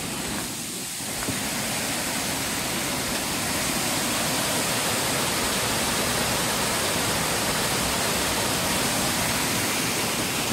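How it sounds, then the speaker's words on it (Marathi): A waterfall near the Waghjai temple on the Waghjai Ghat, after rain, roars as a loud, steady broadband rush that swells in within the first second and then holds constant. "धबधबा बघू आपण."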